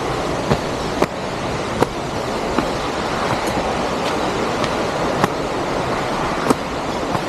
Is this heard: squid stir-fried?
no